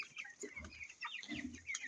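Chicken clucking near a backyard poultry setup where broiler chicks are raised, a run of short, scattered clucks and chatter coming in uneven bursts, moderately close and fairly quiet with nothing else audible.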